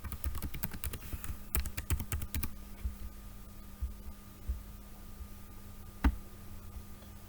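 A password being typed on a computer keyboard: a quick run of crisp key clicks in the first couple of seconds, then sparse taps and one sharp click later over a low steady hum.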